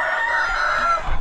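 Backyard chickens kept safe from floodwater, with a rooster crowing in a drawn-out call and hens clucking close by, brief and without talk.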